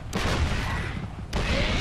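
Siege tanks open fire in StarCraft 2, heavy booming cannon blasts in quick succession over a dense rumbling battle din, loud and close.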